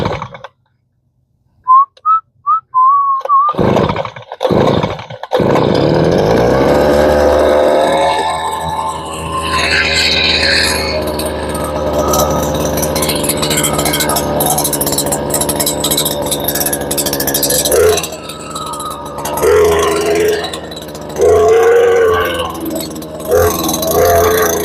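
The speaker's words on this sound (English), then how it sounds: "Get my auger started so I can dig my hole." A gas-powered auger sputters briefly, then runs at a steady loud drone while digging a hole in rocky ground for an off-grid courtyard, its pitch and load shifting as it chews through stones.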